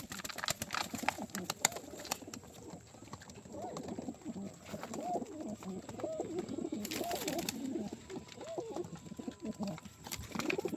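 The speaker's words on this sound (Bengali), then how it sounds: "যে পায়রা চিনবে সে বুঝতে পারবে এগুলো কী পায়রা" Pigeons offered for sale coo repeatedly in soft, rolling overlapping calls, fairly close, with faint background clatter and occasional sharp knocks.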